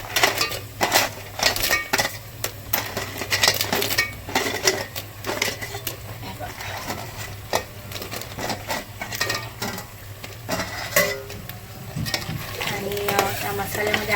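Cleaned crabs tipped into a pan of masala and stirred, a steady sizzle with constant scraping and clattering of a utensil against the metal, close and busy throughout.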